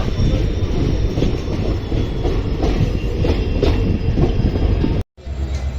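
The Hubli to MGR Chennai Central train passes close and loud as a steady heavy rumble with rhythmic wheel clatter, cutting out briefly just before the end.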